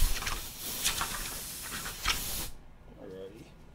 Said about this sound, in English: Let me spray.